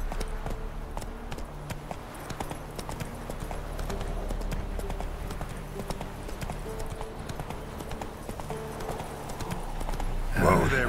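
Roach, the horse in The Witcher 3 video game, clip-clops steadily through the scene, hoof beats running under steady game ambience, with a brief louder burst near the end.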